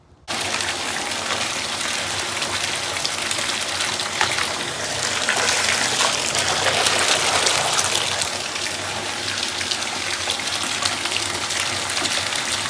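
Hot water runs steadily from a tap after a new electric water heater install, a continuous rushing gush that holds at an even level throughout with no voices.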